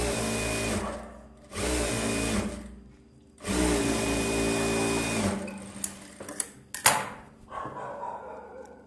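Sewing machine stitching a folded 1.5-inch edge on a silk blouse, humming in a few steady runs with short stops, ending in a cluster of clatters and knocks.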